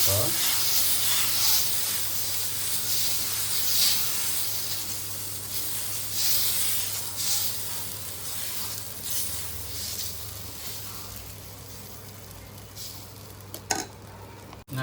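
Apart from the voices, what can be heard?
pesarattu dosa batter sizzling on a hot pan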